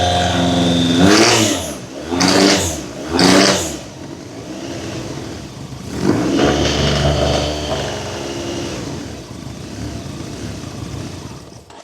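A broken Honda four-cylinder engine revs hard with the throttle open in three loud rising bursts, then settles into a rougher, steadier running note that carries on to the end.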